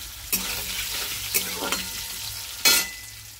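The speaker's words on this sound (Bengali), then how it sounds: "আলুগুলোও একটু হালকা ভেজে নেব" Boiled potatoes frying lightly in hot oil, a soft steady sizzle broken by a few scraping stirs of a spatula against the pan, close and fairly quiet.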